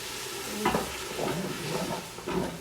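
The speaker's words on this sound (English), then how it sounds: "My onions are getting translucent, and I'm gonna add my diced tomatoes." Diced tomatoes hit softened onions in a hot pot for white bean chicken chili, producing a steady sizzle and hiss with a few soft stirring strokes, close and moderately loud, no voices.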